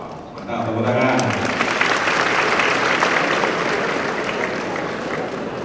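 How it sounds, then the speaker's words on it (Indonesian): An audience claps loudly in a sustained, even wash of applause that starts right after a short spoken line and carries on to the end. "Mantap, tepuk tangan."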